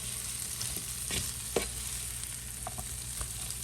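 Green beans sizzling in a pan over very high heat, a steady frying hiss with a few brief scraping stirs, close and fairly quiet, no voices.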